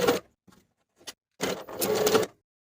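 A sewing machine runs in short stop-start bursts while stitching the seams of a shirt dress: a quick whir, a couple of tiny taps, then a longer steady run close up.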